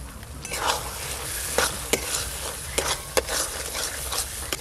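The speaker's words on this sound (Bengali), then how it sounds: "মটরশুঁটি আর মশলা একসঙ্গে বেশ ভালো করে কষে নিয়েছি" Shelled winter green peas, salt and ground spices sautéed together in a pan, a steady close sizzle broken by several sharp scrapes and knocks of the stirring spoon.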